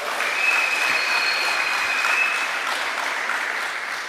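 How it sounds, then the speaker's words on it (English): Audience applause for speakers at a political party meeting, a dense, steady wash of clapping that stays loud throughout with no talk over it. "So please give them a round of applause."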